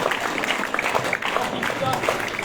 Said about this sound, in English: okay go clapping everybody